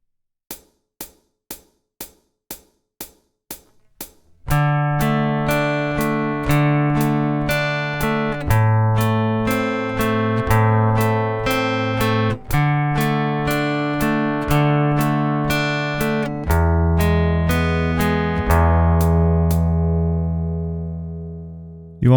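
Fingerstyle acoustic guitar playing the first line of a lesson section slowly: a few soft clicks, then plucked notes ringing out one after another with sustained bass notes, unhurried and clear, ending on a fading chord, no talking.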